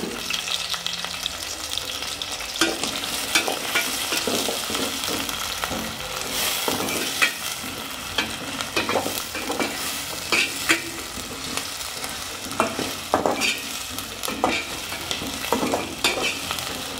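Onions and green chillies fry steadily in a pan with a continuous loud sizzle. Repeated scraping stir strokes run through it, close by and with no talk.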